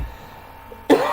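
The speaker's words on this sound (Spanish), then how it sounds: "Esta tosecita y este pequeño resfriado que tenemos" A single sharp cough close to the microphone, breaking a near-silent pause in a Spanish-language Bible talk and continuing briefly as a rough throaty burst.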